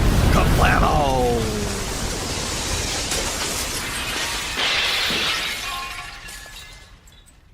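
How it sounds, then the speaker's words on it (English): A sound-effect blast as an exploding toilet machine shatters windows across a city, with a loud burst followed by a long crashing spray of breaking glass and debris that gradually fades. "exploded with a sonic boom that shattered nearly every window in the city"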